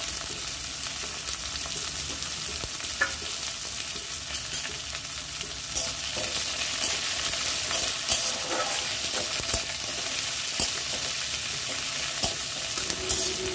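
Onion and green chilli fry in a pan for a kakrol (spiny gourd) dish: a steady close sizzle with occasional spatula scrapes and stirring clatter throughout, no talking.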